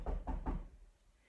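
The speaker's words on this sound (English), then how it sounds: "the wolf found his way to Grandma's cottage and he knocked on the door." Three quick knocks on a door, close and dull, evenly spaced, then quiet; no one speaks.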